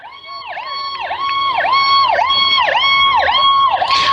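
An ambulance siren wails in a regular rising and falling cycle near a baseball field at McCurdy Field, loud and close, growing stronger over the clip.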